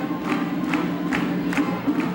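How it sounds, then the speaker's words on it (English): A crowd cheering at a high school boys basketball game in the Big Red Gymnasium, a steady roar of many voices with rhythmic rising chants or stomps about every half second, fairly loud and close. "Oh, the crowd is really getting into it now."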